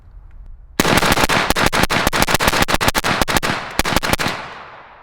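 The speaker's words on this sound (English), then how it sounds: "I'm mag dump as fast as I can, and we'll see what type of gas I'm getting back with it." Suppressed LMT ION K 5.56 rifle dumping a 20-round magazine as fast as possible, a loud, close, rapid string of sharp shots that pauses once before the last few and then rings out.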